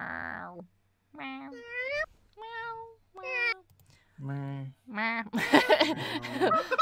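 A person's voice imitates a cat, making a series of drawn-out meows separated by short pauses, close and fairly loud. A brief noisy, cluttered burst of sound follows at the end.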